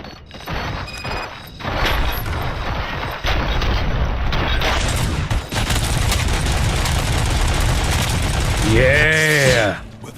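Dense, loud gunfire and explosions fill a combat scene in the video game Robocop: Rogue City, sustained bursts with heavy booms, ending in a warbling electronic whine.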